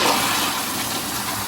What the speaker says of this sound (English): Flushes very easily.